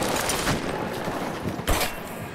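Dense gunfire and a grenade explosion in the Battlefield video game, continuous crackling shots with a sharp blast near the end, loud and close.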